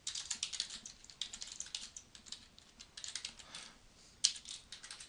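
Steady typing on a computer keyboard, quick light key clicks in uneven bursts with a sharper single tap near the end, close and fairly quiet with no voices.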